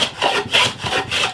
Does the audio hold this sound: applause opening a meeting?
no